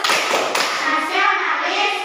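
A classroom of pupils performs a rhythmic group clapping routine, sharp close claps in a patterned beat mixed with children's voices chanting along.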